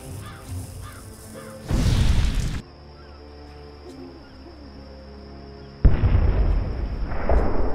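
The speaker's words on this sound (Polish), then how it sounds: "No i mamy fajerwerki." Fireworks going off in the video game Dreamfall Chapters, two heavy booming bursts separated by a quieter gap with a faint steady tone, the second burst sharp at onset and rumbling on loudly.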